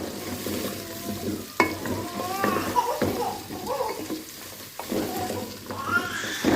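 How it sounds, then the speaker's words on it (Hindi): Carrots frying in ghee while being stirred in a pan, with steady sizzling broken by scraping spoon strokes throughout; close and fairly loud. "गाजरों को हम घी में अच्छे से भून लेंगे"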